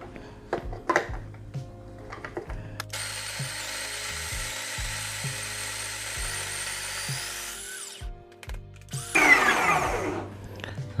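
An electric burr grinder at setting 4 grinds about 18 grams of medium-light roast coffee beans, a steady loud whirring hum running for several seconds, preceded and followed by clicks and handling knocks, with a higher burst near the end.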